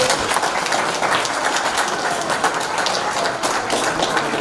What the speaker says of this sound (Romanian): Vă rog să-i aplaudați.